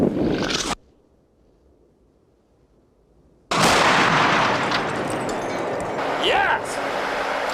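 A tank gun fires at a Sherman tank target, one loud close blast that cuts off into near silence and then returns as a long rumbling roar, with a faint radio voice.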